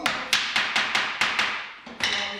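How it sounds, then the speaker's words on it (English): A plastic hammer knocking a solid wood dovetail joint together on a Festool VS600 jig, seven close sharp taps at an even rhythm followed by a short pause and one more tap. "A plastic hammer helps."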